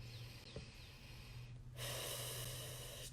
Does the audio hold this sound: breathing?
yes